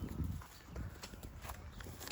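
A mare's hooves clop and shuffle on the ground at an uneven walking pace, fairly close, over a low rumbling background.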